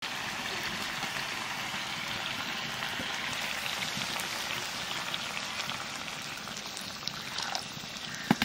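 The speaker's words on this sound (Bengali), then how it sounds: "এখানে জল দিয়ে দেবো।" Water poured into a pan of fish masala, with the fish already being fried in the spices, gives a steady bubbling, rain-like hiss. It stays close and even, ending with a few faint clinks.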